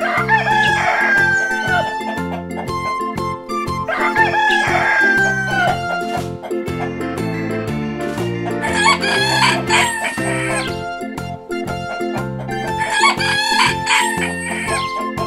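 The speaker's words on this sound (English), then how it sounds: "This is chickens." Chickens cluck and a rooster crows in repeated bursts over a steady, rhythmic music backing in a children's farm animal song, loud throughout with no speech.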